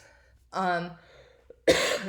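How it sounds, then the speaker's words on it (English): A single short, harsh cough bursts out near the end, after a stretch of speech and a quiet pause. "Sorry for my cough here."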